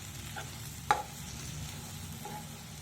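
Potato and brinjal (aloo vankaya) fry being stirred in a pan on the stove, a soft steady sizzle with scraping stirs and one sharp clink of the spoon against the pan near the middle.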